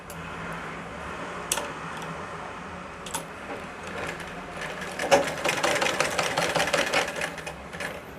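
Sewing machine running steadily while stitching a cross strip on folded fabric, a continuous mechanical whir with light ticking and a few sharp clicks, growing busier toward the end.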